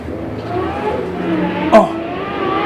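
A yellow Toyota drag car with a 1UZ engine runs the quarter mile, a loud, sustained engine roar that swells and peaks sharply as it passes close, with faint voices in the background.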